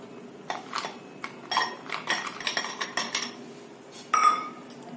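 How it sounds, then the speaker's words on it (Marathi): Ice cubes clink and rattle into a glass of raw mango drink in a quick series of bright, hard knocks, close up, ending with one louder clink. "त्यामध्ये बर्फाचे क्यूब"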